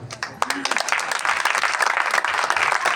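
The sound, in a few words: applause at a church gathering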